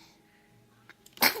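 A two-month-old baby girl sneezes once, a small close burst of breath that stands out sharply against near silence, preceded by a couple of tiny intakes.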